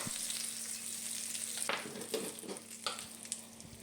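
Curry leaves and coriander powder fry in hot oil in a pan, a close, steady sizzle with a few stirring scrapes and bursts of crackle, and no one speaking.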